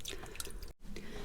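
Water dripping from a household tap after it is shut off while filling a washing container, a steady patter of close drips with a brief silent gap midway.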